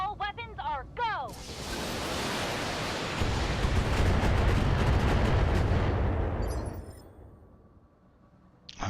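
Mech weapons from the Battletech game unleash a sustained, loud barrage of overlapping blasts and rumbling impacts lasting several seconds, then fading away, after a brief voice at the start.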